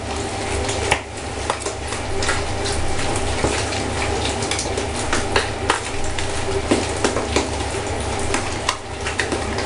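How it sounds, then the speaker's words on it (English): Chocolate and banana cake batter being mixed fairly fast in a bowl, a continuous scraping, sloshing stir with frequent clinks of utensil against bowl, steady and close. "Just keep mixing it. You want to mix it fairly fast."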